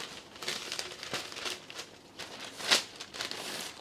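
A paper circle cut to bowl size crinkles softly as it is folded in half in a kitchen, a close papery rustle with one sharper crease near the end.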